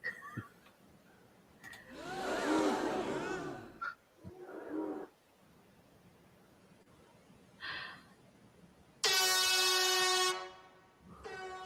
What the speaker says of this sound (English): That's a crappy air horn.